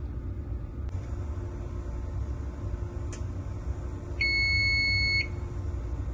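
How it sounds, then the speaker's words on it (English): An electric oven timer gives a steady electronic beep for about a second, loud and alone over a low background hum, with a faint click earlier. "beeping sound will come"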